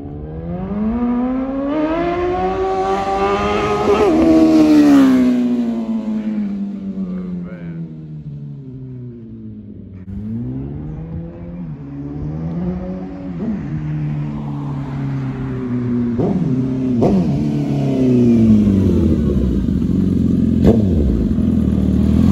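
A Suzuki Gixxer motorcycle engine runs close by, revving up and down in repeated swells with a rough, buzzing tone that rises and falls throughout.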